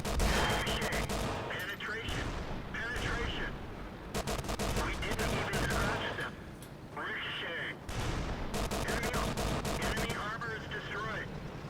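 Tank cannon shots from a Panzer IIJ in World of Tanks using premium ammunition ring out as sharp, loud blasts, several in a row with gaps between, amid game engine noise and some battle clatter.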